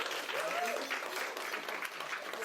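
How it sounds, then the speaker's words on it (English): Wedding guests applaud at a reception at Crooked River Estate in Gerringong, NSW, a dense, steady round of clapping from a sizable crowd lasting throughout. "Yeah, round of applause."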